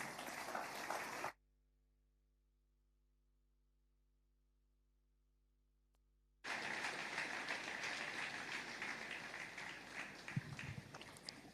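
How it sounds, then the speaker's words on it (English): An audience applauds to welcome a speaker, a broad patter of many hands that drops out into near silence and then returns just as full, fairly soft and distant, with no talk over it. "Join me in welcoming with a round of applause, Afyong Williams"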